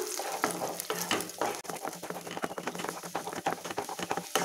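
Four eggs frying in oil as a spatula stirs and scrapes them, with busy crackling sizzle and repeated stirring strokes close up, no talk over it.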